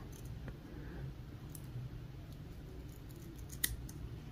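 A few soft, quick snips of small fine-point scissors trimming fibers during fly tying, close by, mostly quiet between cuts, with one sharper click standing out near the end.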